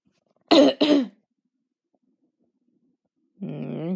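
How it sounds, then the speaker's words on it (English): Two sharp coughs in quick succession, then a pause and a rough, throaty cough-like grunt near the end, all close and loud. "your cough does not sound well"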